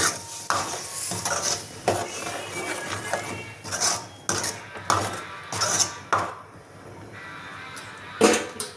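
Ground masala and fried onions are stirred in a pan for chicken sambar, giving repeated close scraping and clattering strokes of a spoon against the pan, with a light sizzle between strokes.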